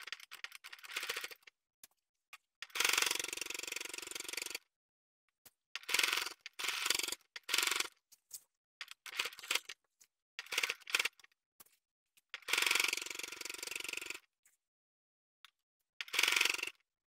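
Sewing machine stitching fabric for a pocket on a garment front, running in several distinct bursts of steady rapid mechanical whirring, each lasting one to two seconds, separated by quiet pauses.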